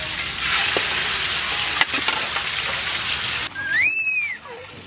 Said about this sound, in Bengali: রুই মাছ ভাজা হবে এখন